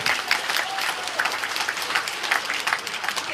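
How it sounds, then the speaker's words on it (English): A room full of company employees applauding, dense close clapping that holds loud and even for the whole stretch, with no speech on top. "A round of applause for everybody in this room, to all our employees."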